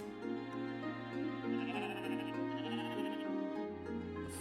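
A sheep in the nature-building video game Equilinox gives a soft bleat over a continuous, layered musical soundtrack with sustained tones.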